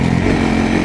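Engine of a vehicle being driven, a loud, steady, close droning rumble with a rough motorcycle-like buzz and no voices over it.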